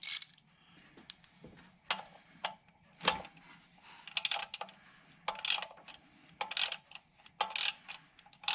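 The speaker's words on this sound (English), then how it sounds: "I'll do that with a regular ratchet" Hand ratchet tightening a bolt on a plastic thermostat housing of a Dodge Caravan, heard as short, sharp clicking bursts spaced unevenly at close range, with quiet pauses between strokes.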